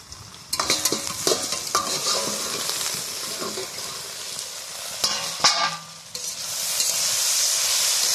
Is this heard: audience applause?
no